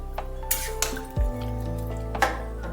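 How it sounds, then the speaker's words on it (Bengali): Chicken being stirred in a pan with whisked sour yogurt, a low bubbling simmer with a few sharp utensil knocks and scrapes against the pan, close up and with no voices. "ভালোভাবে একটু নাড়াচাড়া করে নিতে হবে।"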